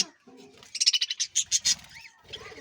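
Budgerigars and java sparrows kept together in a colony chirp in a rapid series of bright, close, fairly loud notes, with softer calls and low murmurs before and after.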